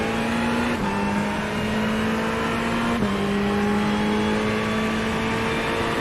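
A GT3 race car at Daytona holds a steady, loud engine drone with clean upshifts at about one and three seconds, the pitch climbing between them; no talking.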